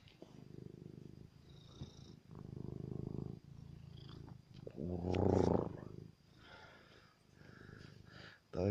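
A tomcat purrs close to the microphone in steady rhythmic bursts, with someone speaking Finnish softly in between and a louder snort-like burst partway through.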